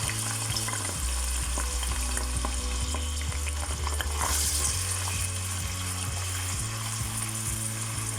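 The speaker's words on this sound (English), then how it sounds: "To the pot I'm adding some curry leaves as well as some onion, chili and about 3 to 4 cloves of cut up garlic" Curry leaves, onion, chili and chopped garlic frying in oil in a pot, a constant close crackling sizzle with occasional stirring scrapes and a low steady hum underneath.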